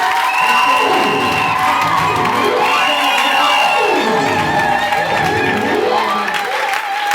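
Wedding guests cheer and whoop loudly in a dense, continuous crowd roar, with high shouts and ululating cries rising and falling over several seconds.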